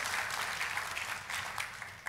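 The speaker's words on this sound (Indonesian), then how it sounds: "Kita kasih tepuk tangannya yang meriah buat Tuhan kita." Steady applause from a large crowd, a dense continuous wash of clapping that holds at even volume throughout.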